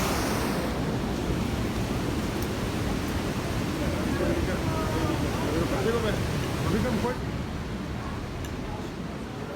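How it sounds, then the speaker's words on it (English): A river rushes steadily nearby at a roadside stop near a church in Bulgaria, a broad even wash of water noise with some wind across the microphone, easing slightly toward the end. "You see the river rushing through."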